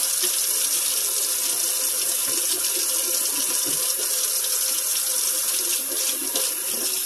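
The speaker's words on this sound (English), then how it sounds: "I'm just using hot soapy water." Hot water runs steadily from a kitchen sink faucet while washing dishes, a constant close hiss and splash that continues unbroken throughout, with no voices.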